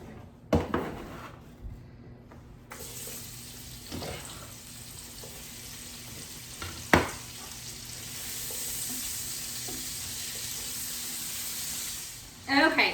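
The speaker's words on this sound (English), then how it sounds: "So now I am just going to get my onions, and it's 2 onions that I've chopped up." Two chopped onions go into a hot pan with seared lamb, setting off a steady sizzle that swells and holds, broken by a few sharp clatters of pan and spoon, close by with some quiet talk.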